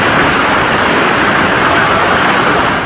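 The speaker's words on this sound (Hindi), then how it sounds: "ऊंची ऊंची लहरें महातूफान का विस्फोट दिखा रही हैं।" Storm waves crash hard in a dense, unbroken roar of churning water. The sound is loud and close throughout, with no voices.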